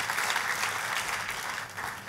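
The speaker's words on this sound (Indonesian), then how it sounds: "Tepuk tangannya yang meriah buat Tuhan." Brief burst of congregational applause in a church service, many hands clapping in a dense continuous wash.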